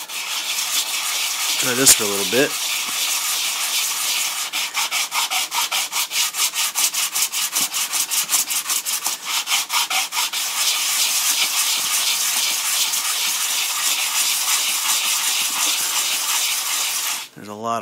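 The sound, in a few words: hand sanding a resin R2-D2 radar eye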